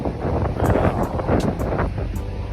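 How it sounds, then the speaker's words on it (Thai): Strong wind at Khao Takiab beach in Hua Hin buffets the microphone in continuous, gusty roaring waves, with no talking over it. "ลม"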